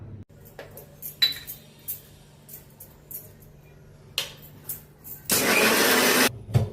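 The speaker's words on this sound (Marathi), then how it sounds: "आता आपण हे मिक्सरमध्ये वाटून घेऊया।" Light clinks and taps of kitchenware, then a kitchen mixer whirs in one loud burst of about a second, grinding roasted ridge gourd peels with coriander, chilli, lemon and salt into chutney.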